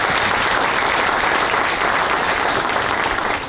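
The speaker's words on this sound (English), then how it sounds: "Let's give her another round of applause." An audience at a school district veterans flag ceremony gives a warm round of applause, steady dense clapping filling the room for about three and a half seconds before tapering.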